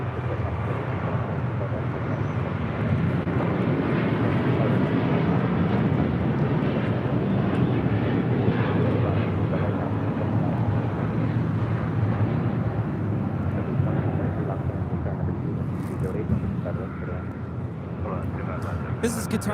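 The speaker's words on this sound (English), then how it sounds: "742 taking off to Doha on the A350 1000." A Qatar Airways Airbus A350-1000 takes off from LAX for Doha, producing a loud, sustained broadband jet roar that holds steady and eases slightly near the end while people talk over it.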